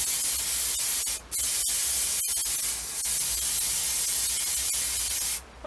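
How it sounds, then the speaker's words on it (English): An aerosol spray paint can hisses outdoors during a restoration job, a loud steady spray broken by two brief pauses and a final stop near the end, with faint clicks and no voices. "Once you've finished spraying, turn the can upside down and spray"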